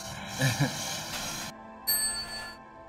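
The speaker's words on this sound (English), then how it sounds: "Oh, Night Train's got a bell." A bell on an indoor cycling bike gives a couple of bright dings, set against steady background hum and a faint voice.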